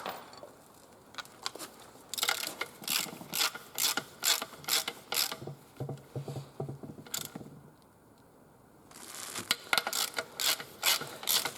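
Ratchet clicking in quick bursts as a 19 mm socket tightens bolts on an Isuzu D-Max gearbox during reassembly, the sharp pawl clicks coming in rapid strokes with short pauses between them, close and alone.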